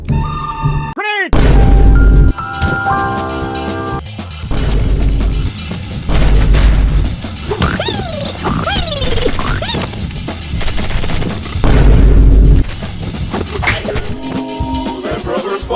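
Animated Killer Bean action scene sped up, with loud bursts of gunfire, booms and crashes in rapid succession, mixed with music and sound effects.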